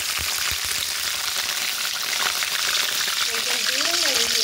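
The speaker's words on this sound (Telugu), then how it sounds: "ఎందుకంటే బెండకాయలు ఫ్రై అవ్వాలండి" Okra frying in plenty of hot oil in a kadai sizzles with a steady, loud crackle while a person talks over it, for Andhra village-style okra chutney.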